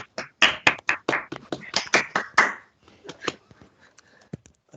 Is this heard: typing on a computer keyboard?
no